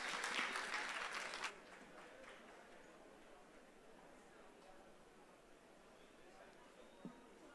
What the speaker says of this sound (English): Let's give her a round of applause as she takes the stage.